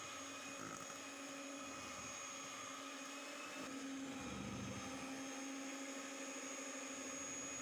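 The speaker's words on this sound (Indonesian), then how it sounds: "naikkan kecepatan mixer ke nomor 2" Electric mixer beating eggs into pandan marble sponge cake batter, a steady continuous whir with a slight rise in pitch near the middle, moderately loud and alone.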